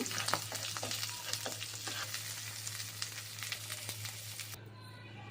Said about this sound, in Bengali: এখন আমি ভর্তাটাকে নেড়ে চেড়ে দিব।